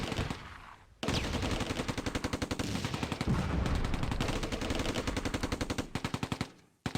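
Mortar and weapons fire in the war game Close Combat: A Bridge Too Far, a loud rapid run of sharp repeated bursts after a short pause, continuing for several seconds before cutting off.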